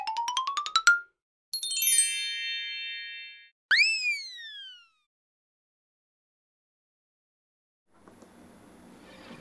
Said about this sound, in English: Y'all like the old PlayStation boot up sound?